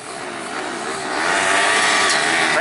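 Junior solo speedway motorcycles racing at Rosebank Speedway, three bikes blaring with a harsh high engine roar that swells louder as they rev away from the start, continuous and fairly close.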